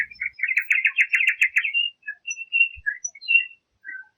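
A nightingale sings a fast, rich trill at first, followed by scattered thin whistles and chirps, close and clear in an otherwise quiet setting.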